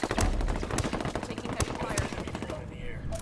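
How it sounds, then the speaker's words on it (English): Rapid gunfire rattles through a close Apex Legends fight, dense automatic bursts and sharp shots stacking over one another for a few seconds before easing off, with voices underneath. "Good gunfight to win"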